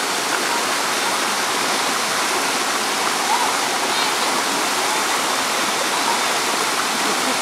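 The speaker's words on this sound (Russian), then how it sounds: "В этом заповеднике это самый большой водопад." The largest waterfall in Sri Phang Nga National Park, Thailand, roars steadily and loudly, a dense, unbroken wash of falling water that fills the whole scene with no pauses.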